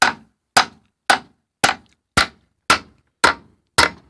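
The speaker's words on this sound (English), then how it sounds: "But to pop this apart should be just a hammer." Eight evenly spaced sharp metallic hammer blows on the rear end of a 1985 Wheel Horse lawn tractor, each ringing briefly before the next, close and loud with no talk.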